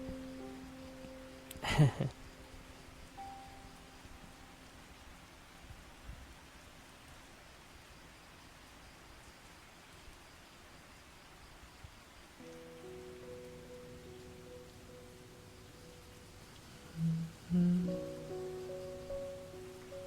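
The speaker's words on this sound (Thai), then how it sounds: "ดูท่าทีฝนจะไม่หยุดตกเลยนะ วันนี้" Steady soft rain falling, a faint even hiss throughout with occasional quiet taps and thumps, calm and distant.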